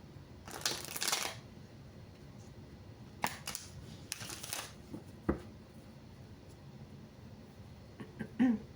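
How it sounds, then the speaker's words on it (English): Tarot cards being shuffled in several separate bursts of riffling and flicking, close and crisp, with quieter pauses between the bursts and no talking. "So it's time for me to shuffle these back through."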